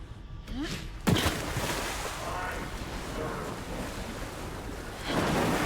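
Water and surf sloshing around a character wading through the sea in the video game Alan Wake 2, a steady close wash of waves with a sharp splash near the start and a swell of water toward the end.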